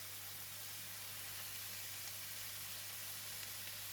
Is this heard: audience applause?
no